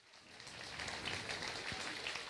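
Audience clapping at a high school graduation ceremony in a hall, starting soft and swelling into steady, fairly distant applause from a large crowd.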